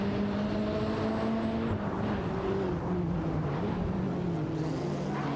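Porsche 961 LM and Ferrari F40 Competition racing in an AI-driven video game race, a continuous loud engine drone with shifting pitch as the cars accelerate and change gear, no voices.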